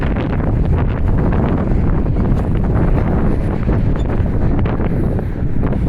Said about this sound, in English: When we're walking this direction, we're going right into the wind.